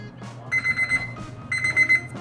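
A grill timer alarm beeps in two quick bursts of rapid electronic chirps separated by a short pause, loud and close, with faint background sounds between and no speech.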